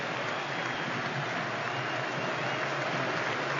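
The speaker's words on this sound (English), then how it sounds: "the applause from all 4 sides of Wembley as he leaves the field" Applause rings from all four sides of Wembley Stadium as a substituted England player leaves the field during an England v Italy match, a dense, steady wash of clapping from a huge crowd, even and sustained throughout.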